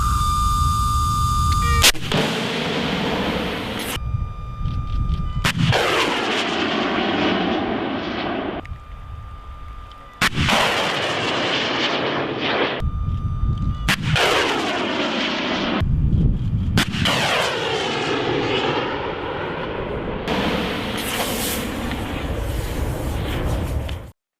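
FIM-92 Stinger missile firings, a series of loud launch blasts each followed by a fading roaring whoosh of the rocket motor, repeated several times in close succession outdoors.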